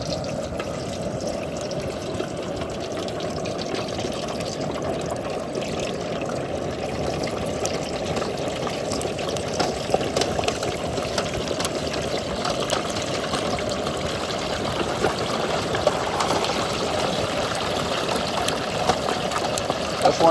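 A whole thawed turkey lowered slowly into a pot of hot frying oil gives a continuous dense fizzing and crackling sizzle, steady and close, with no talk.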